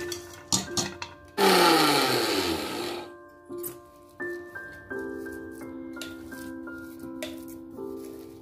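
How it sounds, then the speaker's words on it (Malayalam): A mixer grinder coarsely grinds soaked chana dal for parippu vada in a short, loud whirring burst of about a second and a half, followed by clattering, tapping and intermittent tonal kitchen noise. "ഇതിപ്പോൾ രണ്ടു വട്ടമായിട്ടാണ് നമ്മളിത് അരച്ചെടുക്കുന്നത്."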